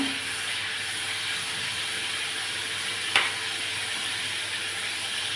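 Chicken nuggets frying in a pot of oil give a steady, faint sizzling hiss throughout, with one brief sharp crackle partway through and no talking.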